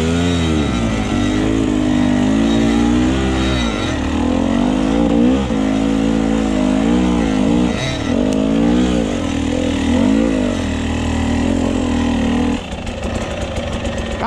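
A Husqvarna TC 65 kids' enduro motorcycle engine buzzes loudly and close, its pitch rising and falling with repeated throttle revs, then easing off near the end.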